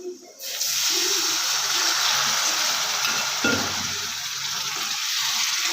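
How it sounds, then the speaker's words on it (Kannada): Water poured into sizzling egg curry masala in a pan hits with a sudden loud burst of hissing and frying, then settles into a steady, close sizzle. "ಇವಾಗ ಸ್ವಲ್ಪ ನೀರು ಹಾಕ್ಕೊಳ್ಳೋಣ"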